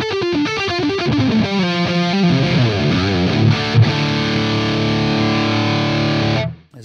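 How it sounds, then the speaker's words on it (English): Electric guitar played through a Sonicake Black Hammer multi-effects unit with heavy overdrive and distortion, riffing and sliding in saturated sustained chords for several seconds before cutting off abruptly at the end. "starting to get pretty saturated in terms of its overdrive and distortion."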